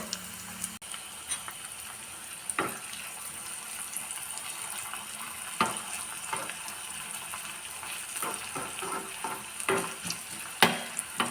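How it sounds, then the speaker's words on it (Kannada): Onion and fenugreek seeds simmering in coconut oil, a steady bubbling sizzle with scattered crackles and occasional stirring clicks, close and fairly quiet throughout with no talking. "ಆನಿಯನ್ನೆಲ್ಲ ರೋಸ್ಟ್ ಆಗಬೇಕು ಆ ರೀತಿ ಚೆನ್ನಾಗಿ ಕುದಿಸ್ಕೊಳ್ಬೇಕು"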